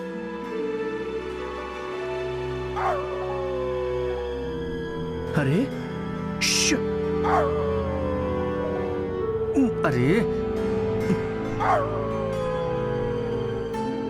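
A dog yelps and barks a few times in short bursts, with a faint whine between, over a steady background tone; a voice speaks briefly.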